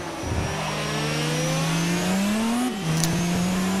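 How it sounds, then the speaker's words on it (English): An Audi R18 race car in Forza 4 powers out of a corner, its engine note climbing steadily in a loud, sustained whine with a brief dip and shift near the end. "as soon as you put your foot down in the corner, the car just powers out"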